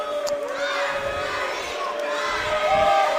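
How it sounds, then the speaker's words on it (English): Student section crowd at a high school boys basketball game, Orange hosting Olentangy, sending up a sustained loud roar of booing and shouting that fills the gym during a free throw. "The Pioneers are booing from the student section."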